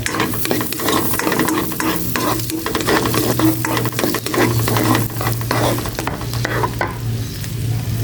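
Garlic sautés in a hot pan with a dense, constant sizzle and crackle, with stirring scrapes and light utensil knocks close up, loud and steady, with no voices.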